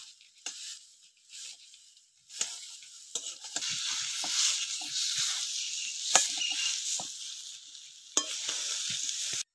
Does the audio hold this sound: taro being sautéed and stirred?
yes